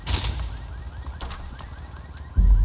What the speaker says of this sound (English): This alarm is gonna go.